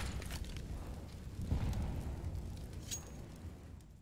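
An incendiary grenade burns in the video game Counter-Strike, a low rumbling whoosh of flames that swells briefly and then settles into a steady roar with faint crackles.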